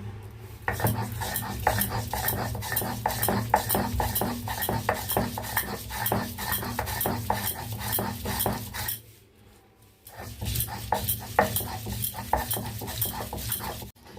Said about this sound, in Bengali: প্রথমে ডালগুলোকে শিলনোড়ায় বেটে নিচ্ছি